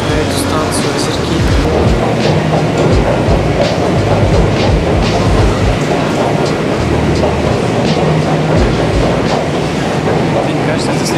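A Saint Petersburg metro train rolls along with a loud, continuous rumble and rhythmic clickety-clack of wheels on track, steady throughout.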